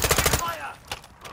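Rapid automatic gunfire in the shooter game Call of Duty DMZ, a short dense burst at the start that fades into echoing reports, with a voice shouting over it.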